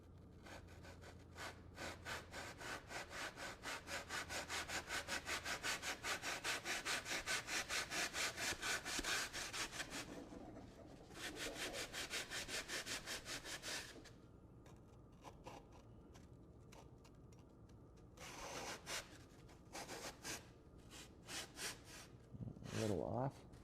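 A hand saw cuts into a bobcat taxidermy form in fast, rasping back-and-forth strokes, close and steady for about ten seconds, then shorter bursts with pauses and a few soft sniffs or breaths.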